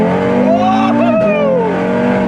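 An Audi R car with upgraded engine and transmission mounts revs loudly from inside the cabin as it accelerates, the engine note dipping and rising through a gear change.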